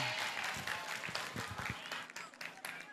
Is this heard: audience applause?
yes